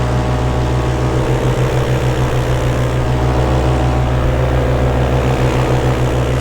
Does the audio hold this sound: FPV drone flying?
yes